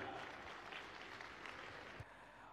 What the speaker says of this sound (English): Let's also have a huge round of applause for her,